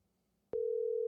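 A phone call placed through a soundboard wired to a phone cable produces a steady electronic line tone that starts abruptly halfway through and holds on one pitch, loud and alone.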